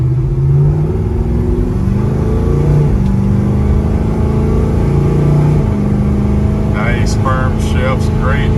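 A 1965 Chevrolet Chevelle 300 engine revs and pulls away steadily, the pitch rising and dropping through gear changes, with faint voices over it near the end.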